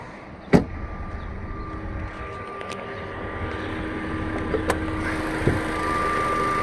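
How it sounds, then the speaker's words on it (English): The sunroof of a Focus car opens with a steady electric motor whine that builds slowly, broken by a few sharp clicks and thunks inside the quiet cabin. "Sunroof."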